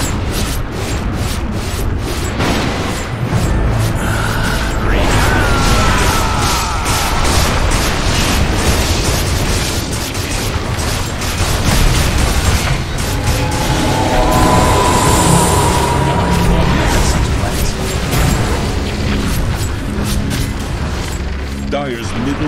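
A tower crumbling in a Dota 2 match, heavy booming collapse and debris bursts layered over continuous battle noise and game effects, loud and sustained throughout.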